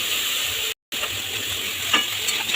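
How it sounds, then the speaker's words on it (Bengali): Spice paste frying in oil with salt, a loud continuous close sizzle with faint stirring scrapes, briefly cut to silence partway through. "এটাকে ভালোভাবে কষিয়ে নেব মশলাটার ওপরে নুনটা দিয়ে দিলে আর তেলটা ছিটকবে না গায়ে"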